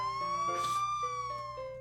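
A voice sings a sustained, wavering siren-like tone in imitation of a police siren, its pitch gliding slightly up and then down. A breathy burst comes partway through, and there is faint background music.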